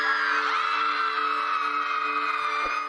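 Several teenage girls in a film scream together in one long, loud, sustained shared shriek that holds steady for about three seconds before trailing off.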